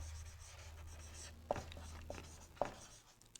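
Quiet writing on a board during a lesson on atomic structure, faint scratching strokes with a few sharper taps over a low room hum, recorded close and without talk.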